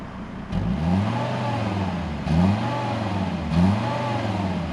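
A Volvo XC90 daily driver's engine is blipped three times in quick succession, each rev rising and falling sharply, loud and close with no talking.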